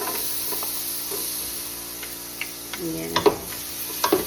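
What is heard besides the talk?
garlic frying in a pan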